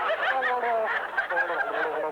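A man imitates a warbler's song, a continuous run of wavering, bird-like whistled trills and chirps that sweep up and down, fairly loud and close, with no other talk.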